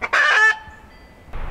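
A chicken gives a loud, close squawking cluck, followed by a brief quieter rustle.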